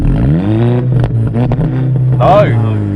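SEAT Leon Cupra R engine revving loudly close by, its pitch climbing and falling in repeated surges with a steady idle beneath, while people talk over it.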